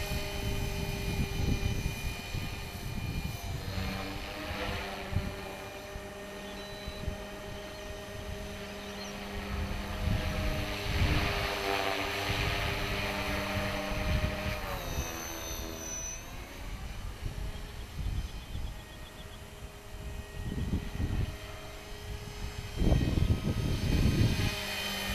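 HK450 Pro and mCPX BL RC helicopters flying in wind give a steady whine of rotors and motors that rises and falls as they move, with buffeting gusts and rumble from the wind. Nobody talks.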